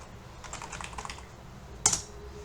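Typing on a computer keyboard during a live Python programming lesson, a quick run of soft, close key clicks followed by one sharper, louder keystroke near the end.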